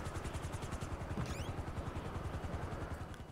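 A helicopter in the video game GTA Online gives a steady, rhythmic rotor chop that holds evenly throughout at low volume, with a brief whistling tone partway through and no talk over it.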